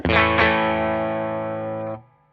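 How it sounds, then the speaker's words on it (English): Electric guitar through a Fender Hot Rod Deluxe tube amp: a strummed chord struck twice and left to ring, mildly crunchy and full, then muted after about two seconds. "we're using a Fender Hot Rod Deluxe from Fender,"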